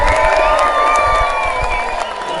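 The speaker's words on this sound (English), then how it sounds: "the biggest noise you possibly can. Clapping, cheering, whistling and shouting." An audience at a magic show erupts in loud clapping, cheering, whistling and shouting all at once, a dense continuous roar of crowd noise with shrill whistles on top.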